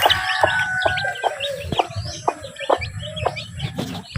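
Chickens clucking and cheeping in a busy coop, a hen with thirteen chicks, a rooster crowing briefly amid repeated sharp pecks or taps, fairly close.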